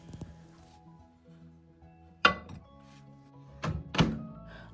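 A microwave oven door shuts with a firm, close thunk after a bowl of partly cooked jeera rice goes back inside, followed moments later by a couple of softer clicks and knocks in a quiet kitchen.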